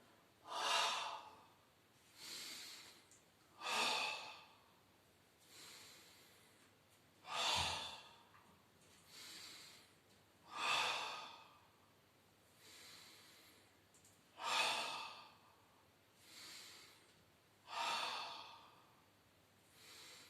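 Breathing during a Pilates ab exercise: about ten slow, regular breaths in and out, each a soft airy hiss spaced a couple of seconds apart. The breaths are close and fairly quiet, with no talk.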